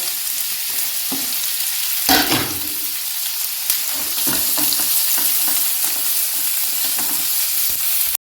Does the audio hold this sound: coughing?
no